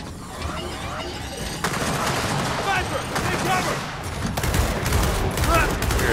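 Sniper and other gunfire in the video game Gears of War 4, with sharp shots crackling repeatedly over dense battle noise and a voice talking over the action.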